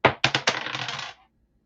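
Dice rolled onto a hard surface: a few sharp clattering bounces, then a quick rattling tumble that settles within about a second, close and alone.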